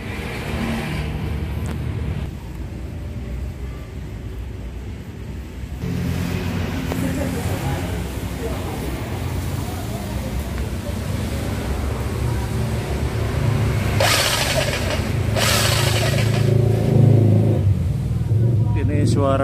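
A jackhammer motor with a newly serviced needle bearing runs steadily and loudly throughout, with a heavy rumbling drone that swells in intensity near the end.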